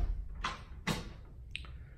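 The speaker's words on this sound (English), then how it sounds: "I'm gonna lock this door behind me." A house door in a Douglasville home with a pool and finished basement is pushed shut and locked: two broad knocking thuds followed by a brief sharp latch or bolt click, close by in a quiet room.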